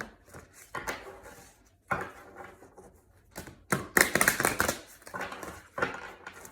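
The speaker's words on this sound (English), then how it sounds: "We'll do one last shuffle." A tarot card deck is shuffled by hand in repeated bursts of crisp riffling and slapping, close and fairly loud, with short pauses between passes.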